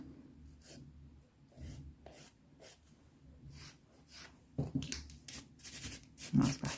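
A nail file rasps over acrylic French nail tips in short, uneven strokes. It is quiet and close, with louder scratchy passes toward the end.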